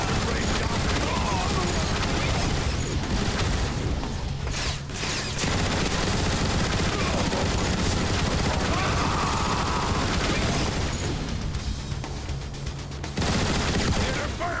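Dense sci-fi weapon fire in a Transformers: War for Cybertron battle, loud, continuous volleys of shots with booms and a brief lull mid-way.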